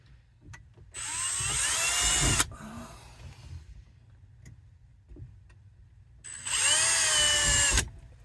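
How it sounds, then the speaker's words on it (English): A power drill whirs in two sustained bursts of about a second and a half each, drilling into a plastic roof, close up, with quiet handling clicks and pauses between. "I certainly don't want to drill a hole all the way through my roof"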